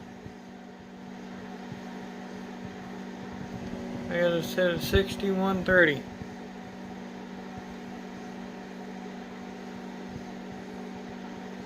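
A microwave oven runs with a fork inside: a steady low electrical hum continues throughout, and someone speaks briefly partway through over it.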